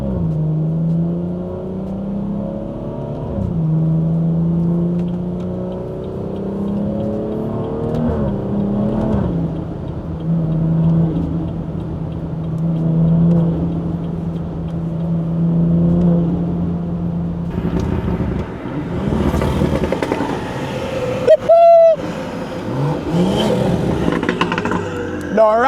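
A car with a Stage 2 tuned B58 engine and loud exhaust drives through daytime traffic, its droning engine note rising and falling with throttle before sharper, louder revving and exhaust bursts toward the end.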